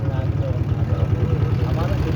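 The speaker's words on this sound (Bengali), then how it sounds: "ট্রলার স্টার্ট দিতেছে" A motor trawler's engine chugs at a steady low idle on a small river crossing near Kanaighat, Sylhet, with a regular throbbing pulse close by and no break in the beat.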